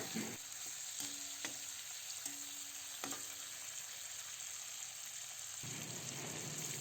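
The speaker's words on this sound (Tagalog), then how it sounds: "halo-haloin natin or baliktarin natin yung chicken para ma-absorb naman ang" Chicken breast sizzles steadily as it fries in a pan, with a few short scrapes and clinks as the pieces are stirred and flipped, and the frying grows louder near the end.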